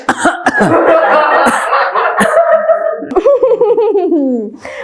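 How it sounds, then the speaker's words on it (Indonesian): A few sharp, close coughs burst out, followed by giggling laughter that rises and trails off. "Baru dia ngomongin udah batuk aja nih"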